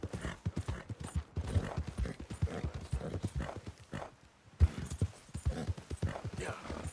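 Horse hooves clip-clop in the video game Red Dead Redemption 2, a quick irregular run of hoof hits that pauses briefly midway and then resumes, with talking over it.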